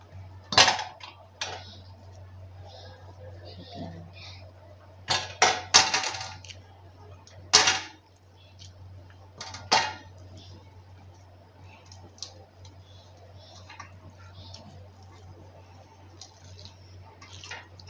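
Potatoes are mashed into minced chicken meat for cutlets, soft squishy presses and scattered clinks of utensil against a bowl, intermittent and close, over a low steady hum with occasional speech.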